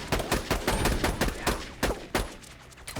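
Rapid bursts of gunfire from the video game Borderlands 2, dense and fairly close, with sharp repeated cracks piling on top of each other across the whole stretch.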